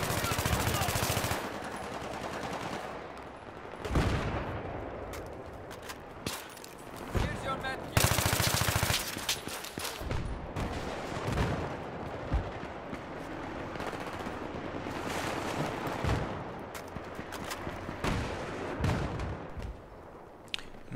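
Gunfire rattles through a close-quarters team deathmatch in Battlefield 3, with rapid automatic bursts and sharp single shots, some loud and near, others farther off, scattered unevenly throughout.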